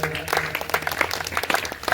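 A crowd applauds a second-place winner at a javelin, shot put and discus sports event, a short burst of clapping mixed with overlapping voices.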